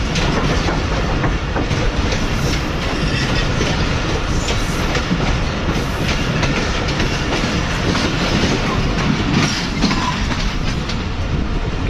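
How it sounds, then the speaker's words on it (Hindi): A passenger train, likely the Rehman Baba Express, arrives at a busy station in heavy rain, with a steady loud clatter of wheels and rolling stock over the full span and no voices. "और ये शायद रहमान बाबा एक्सप्रेस जो है ये भी आ चुकी है"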